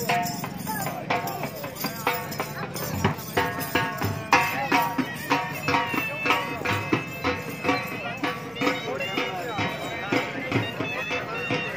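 A bay horse performs at a Punjabi horse show, its hooves beating a steady, rhythmic clip-clop close by under an announcer's voice and crowd noise.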